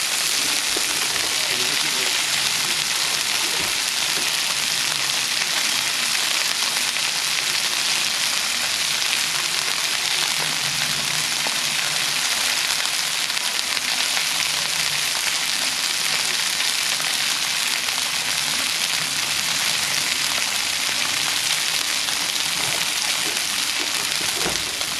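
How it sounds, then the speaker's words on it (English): Steady, dense sizzling of salmon frying on a hot griddle, continuous and fairly loud throughout, with faint talk in the background. "get that salmon sizzling, Hannah"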